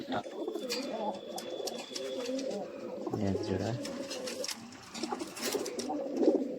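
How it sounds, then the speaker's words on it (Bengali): Red wild-type pigeons in a loft at night coo low and soft amid rustling and wing movement, while someone talks over them close by. "কত সুন্দর কবুতর"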